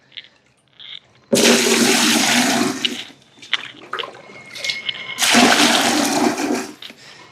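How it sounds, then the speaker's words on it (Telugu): Loud bursts of rushing, splashing water come in two long surges, separated by quieter sloshing and clinks, close by, as water is bailed into a bucket. "సో చలో ఇప్పుడు వాటర్ మొత్తం ఈ బకెట్లో తీసేసి అది బయట పారబోసేద్దాం."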